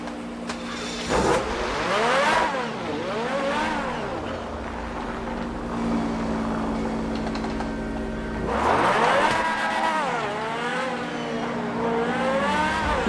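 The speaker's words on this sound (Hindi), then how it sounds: "मैं तेज बहुत चलाता गड्डी।" A car engine in GTA 5 revs hard while driving fast, surging through repeated rising and falling pitch sweeps as gears shift, loud and continuous with no talk.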